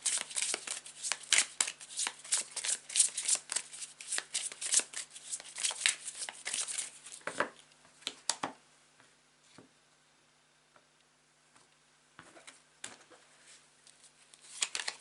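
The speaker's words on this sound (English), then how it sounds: "I'm just going to get the cards out for you first." Tarot deck shuffled by hand, close and loud: a long run of crisp riffling card flicks for about eight seconds, then a hush, then a few scattered card snaps.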